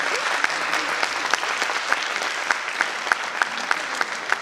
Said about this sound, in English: May we have a bigger round of applause?